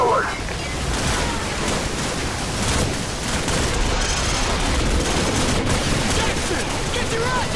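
Dense, continuous gunfire from a Call of Duty Modern Warfare battle, a loud wall of rapid shots and explosions with no pauses, under shouted voices.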